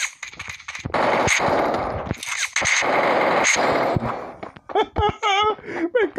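Gunfire from a weapon in a video game, rapid automatic bursts loud and close, broken by short pauses, followed by someone talking.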